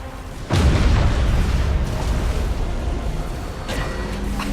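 Warship guns in the video game Battlefleet Gothic: Armada 2 open fire with a sudden heavy boom, followed by a sustained loud rumbling barrage and further blasts.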